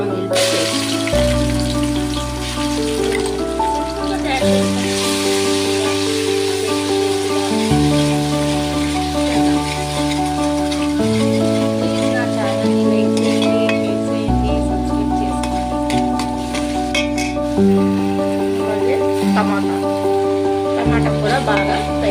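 Prawn biryani masala with tomatoes frying in a pan, a continuous close sizzle with stirring scrapes, under loud steady background music.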